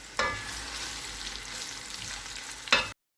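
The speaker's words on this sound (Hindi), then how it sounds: "प्याज को फ्राई कर लेंगे जब तक ये लाइट गोल्डन ब्राउन नहीं हो जाते।" Onions fry in hot oil in a pan, a steady broad sizzle with a couple of sharp scraping stirs at the start and end, close and alone without talk.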